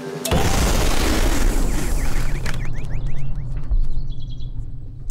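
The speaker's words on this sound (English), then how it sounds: "Our pumpkin exploded." A rubber balloon made up as a pumpkin bursts with one sharp, loud pop at the start, followed by a rushing, noisy wash and scattered high chirpy squeaks.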